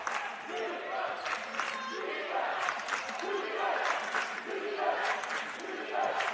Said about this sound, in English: It is the Webster crowd you're hearing.